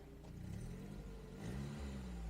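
A BMW E36 saloon's engine runs with a steady low, slightly throaty hum and a mild swell partway through, heard close by with no talking.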